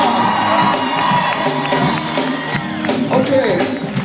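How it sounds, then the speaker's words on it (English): A concert audience cheers and claps, with whoops and shouts rising from the crowd in a loud, continuous burst. "So y'all give yourselves a round of applause."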